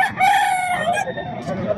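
Young roosters, eight-month-old stags, crow loudly and close by at a busy pet market, one long crow overlapping other birds' calls with market clatter beneath.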